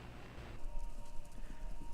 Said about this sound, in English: Sounds like horses. Horses running?